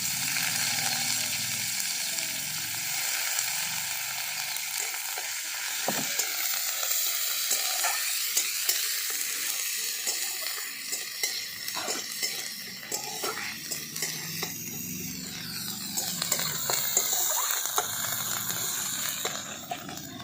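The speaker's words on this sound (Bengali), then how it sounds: "পেঁয়াজটা ভালো করে ভাজা ভাজা করে নিয়েছি।" Grated onion fries in hot mustard oil with nigella seeds in a pan, a continuous close sizzle and hiss broken by repeated scraping and clinking as a spatula stirs, with no talking.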